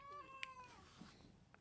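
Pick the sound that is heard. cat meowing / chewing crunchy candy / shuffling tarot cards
cat meowing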